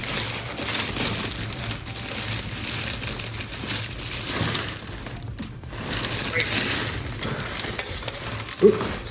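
Loose parts rattling inside a ChipCom Ether Modem for early 10Broad36 Ethernet as the box is handled, a scattered, close clatter of small knocks and shuffles at moderate loudness throughout, with a few sharper clicks near the end.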